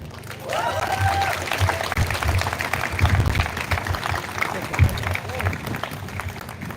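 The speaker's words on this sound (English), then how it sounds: "Sebi deserves a thunderstorm of applause." A crowd applauds at an outdoor student and parent protest at Lohia Maidan. The clapping is steady and close, with overlapping voices and shouting, a brief whistle-like call near the start and a sharp louder clap partway through.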